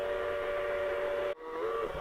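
A garden railroad model train sound system blows a sustained steady whistle tone from a speaker, holding for over a second, cutting off briefly, then resuming with a shorter bending whistle, loud and continuous without talk.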